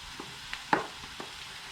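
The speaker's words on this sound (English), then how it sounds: "Now you put your rice in." Rice tossed into a hot pan for fried rice gives a brief close sizzle with a few light scraping stirs and one sharper clack against the pan.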